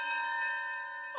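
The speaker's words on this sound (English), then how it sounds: "the bell was again upon the stroke of 1" A bell tolls the stroke of one o'clock, a single sustained ringing tone with a long, steady resonant hum that lingers, heard close and alone before a brief muffled bump at the end.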